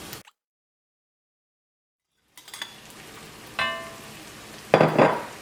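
Mashed potato stirred into coriander powder frying in oil, with a brief clatter, then silence, then rising sizzle and scraping strokes in the pan that grow louder toward the end.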